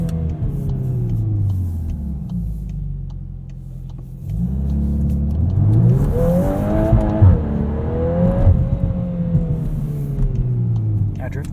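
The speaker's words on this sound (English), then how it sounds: "Nice little bounce off the rev limiter there." A 2022 Volkswagen Golf R with a DSG gearbox, in drift mode, revs hard with its engine note rising and bouncing off the rev limiter, loud and close from inside the cabin, with a voice talking over it.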